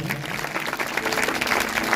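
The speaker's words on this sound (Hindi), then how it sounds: "अगर आए हैं तो जोर से तालियां बजाएंगे" A church congregation claps during a Sunday sermon, a dense, steady wash of applause lasting a couple of seconds with a faint voice underneath.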